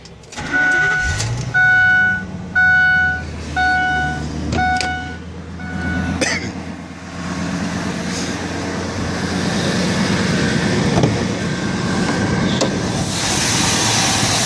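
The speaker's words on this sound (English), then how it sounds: "Go ahead and start the vehicle up while we're in here." A 2002 Ford Excursion Limited with a 6.8 liter V10 and an aftermarket cold air intake starts up after a few steady warning chimes, then settles into a loud, continuous running rumble, heard up close.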